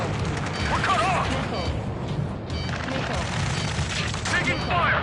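Rapid, sustained gunfire and explosions fill a ground battle in the video game Ace Combat 7, a loud, continuous barrage with shouted radio voices over it.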